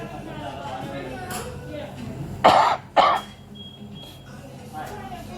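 Two sharp, loud coughs in quick succession, close by, with murmuring voices and background chatter before and after.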